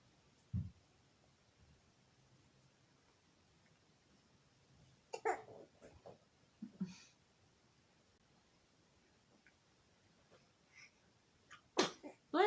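Several sneezes and short throat noises break a quiet room at home, one near the start, a cluster in the middle and a louder burst near the end.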